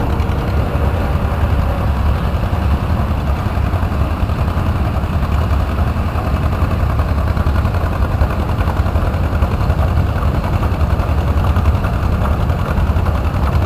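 A 1938 Case RC tractor engine idles steadily at a hometown tractor show in Cynthiana, Kentucky, giving a continuous loud low rumble with a mid-range chug that holds evenly throughout, with no talk over it.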